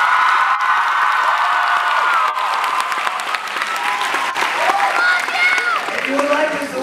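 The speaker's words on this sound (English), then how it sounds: "Give me a round of applause if you know who I am." A large crowd at a live touring event claps and cheers loudly and continuously, with scattered whoops and shouts rising over the dense applause.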